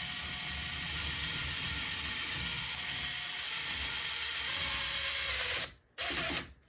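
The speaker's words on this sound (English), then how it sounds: "Let's see how loud it gets with a 3-inch screw." Impact driver on speed 2 driving a 3-inch screw into wood, a steady loud buzzing hammer drone lasting several seconds, then a brief stop and one short final burst.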